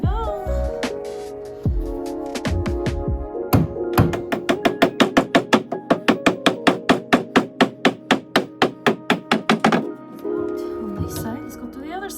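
A hammer knocks at a curvy dresser piece held on with nails, producing a quick run of sharp, ringing blows at a steady rhythm, with a few looser hits and some talk before and after.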